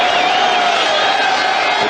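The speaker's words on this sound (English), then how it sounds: "Getting a standing ovation by the crowd." Cricket crowd in a stadium giving a standing ovation, a dense, loud wash of cheering and roaring that holds steady throughout.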